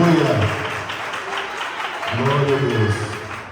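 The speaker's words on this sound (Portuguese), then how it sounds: "Essas palmas são para a palavra de Deus, viu?" A church congregation clapping hands during a sermon by a pastor, a steady wash of applause through the whole stretch with voices mixed in beneath it.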